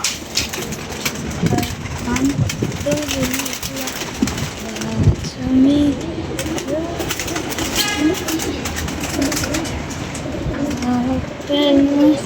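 Several pigeons coo repeatedly nearby amid rustling and fluttering, with a person talking in the background throughout.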